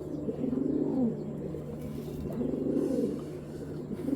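A pair of silver line pigeons cooing softly, low repeated burbling coos rising and falling over a few seconds, close by with faint background hum.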